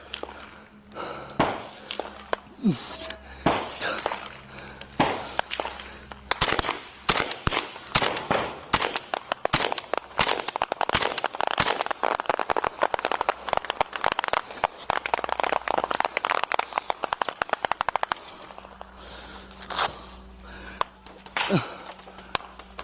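Firecrackers exploding in rapid succession, a dense volley of sharp cracks and pops that builds to a sustained burst before thinning out into scattered bangs, with faint shouting in the background.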